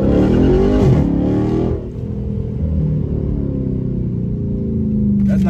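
A car in sport mode with traction control off accelerates hard. The engine roars loudly and closely, climbs in pitch, drops briefly at a gear change, then keeps pulling with a steady, strong drone.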